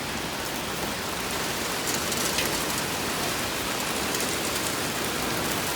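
Steady, heavy rain pours down as a storm arrives with the wind picking up, a dense even hiss of drops striking surfaces close by and continuing without a break, no voices over it.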